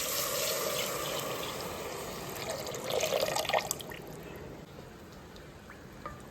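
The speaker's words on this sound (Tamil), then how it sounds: "3/4 லிட்டர் தேங்காய் பால் நம்ம ஆட் பண்ணிக்கலாம்." Coconut milk pours into rice for a pulao, a soft, steady liquid stream heard faintly and close, easing off toward the end with no talk over it.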